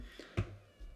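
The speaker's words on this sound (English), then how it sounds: "That's a cat outside the door." A cat meows once outside a door, a short, fairly faint cry that rises briefly above a quiet room background.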